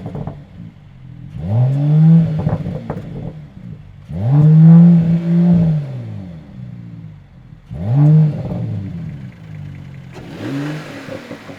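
A 2021 Mercedes-AMG E53 Coupe pulls away on the road in comfort mode, its engine rising in three separate acceleration pulls, each swelling and easing before the next, heard loud and close from inside with no talking.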